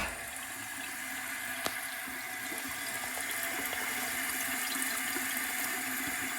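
Hose water pours through a very old toilet fill valve into the tank, a steady rushing hiss and gurgle that runs on because the valve cannot shut off against the hose pressure, heard close with one brief knock partway through.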